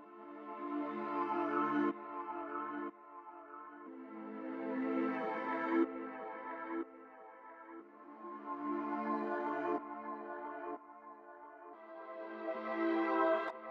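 A reversed synth pad swells as the intro of a trap beat, rising in repeated sustained chord waves with a backward, building feel, continuous and fairly loud with no voices.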